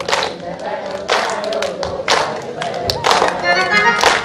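A group of people clap along to a Janmashtami bhajan in irregular bursts of hand claps and taps, fairly close and loud, with voices talking and singing over the clapping.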